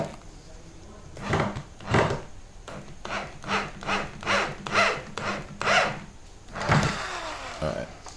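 Screws are driven into the wooden parts of a DIY virtual pinball cabinet, with a run of rhythmic rasping screwdriver strokes, close and fairly loud, while someone talks at times.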